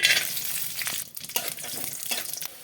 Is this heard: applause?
no